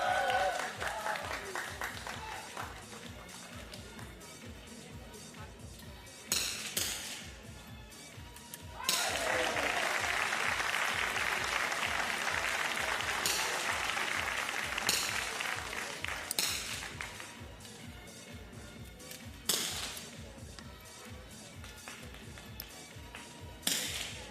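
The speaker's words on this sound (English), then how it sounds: "the claps might be for the Frenchman" An audience claps at a men's 50m Rifle 3 Positions para shooting final, Paris 2024, with several bursts of applause over a steady bed of sharp rhythmic taps and crowd noise.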